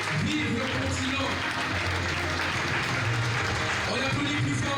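An audience at a fashion event applauds in a dense, sustained burst of clapping that stays loud and steady throughout, with voices mixed into the crowd noise.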